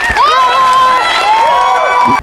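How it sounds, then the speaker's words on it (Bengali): An audience, with children's voices among them, cheers and shouts loudly for a child in a lively, close-up burst of whoops and calls. Individual claps are hard to pick out in the noise. "অমিতের জন্য আবারও হাততালি"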